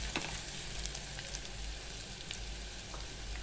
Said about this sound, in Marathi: असं छानपैकी आपण हे आलं लसूण असं परतून घेणार आहे